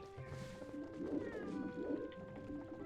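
A cat meows in Zelda: Twilight Princess, a few drawn-out, plaintive mews at moderate level over faint game ambience, with no talk.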